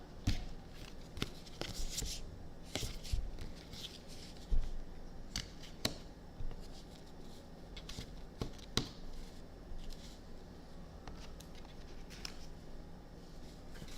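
Tarot cards are shuffled throughout, with soft riffling patter and scattered sharp card snaps, fairly close and at moderate level with no talk over them.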